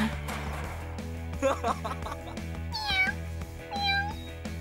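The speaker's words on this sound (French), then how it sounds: "Est-ce que j'entends miauler?" Cartoon cat meows rise and fall in two or three gliding cries over busy music and sound effects, with other cartoon voices nearby.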